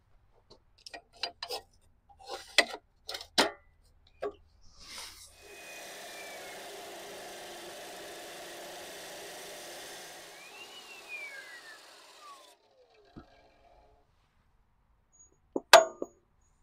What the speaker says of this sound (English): So let's get to the chop saw.